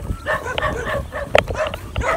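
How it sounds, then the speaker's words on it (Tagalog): Several dogs yapping and barking in short, irregular bursts at a rural home, fairly close and loud, with a sharper yelp near the middle and no one talking. "Maingay yung mga aso."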